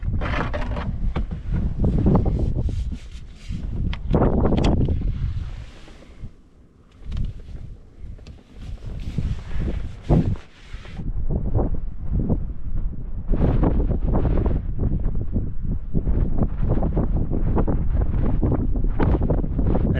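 Strong, steady wind under blue sky on a Norwegian ptarmigan hunt buffets the microphone with broad rumbling gusts, briefly easing in the middle before roaring back up.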